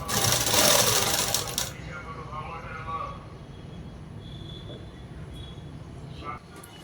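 A sewing machine stitches work pants in short bursts, loud and busy at first then settling into a quieter steady whir with scattered small clicks, while a voice talks over it.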